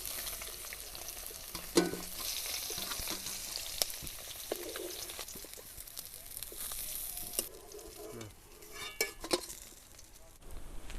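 Pieces of snakehead fish fry in a pan with a continuous close sizzle, broken by sharp scrapes and clatters of stirring and turning, no voices.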